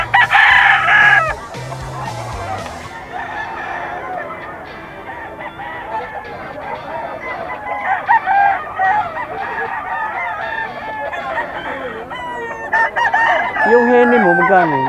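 Loud rooster crows ring out at a bustling pet market, with other fowl clucking and honking nearby and faint voices in the background.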